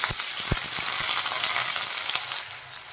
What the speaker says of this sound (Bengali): তেল গরম হয়ে গেছে, এখন আমি কেটে রাখা আলুগুলো ভেজে নেব।